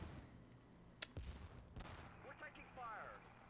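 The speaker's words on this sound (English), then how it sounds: "There's definitely some artillery down there." Artillery fire in the video game Theatre of War 3: Korea: one sharp distant blast, then a few faint rumbling impacts over a quiet battlefield background.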